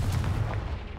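A Confringo fire blast spell from the video game Hogwarts Legacy: one short, dull booming burst, like a muffled shot, that fades within a second. It is close but fairly soft, and no one talks over it.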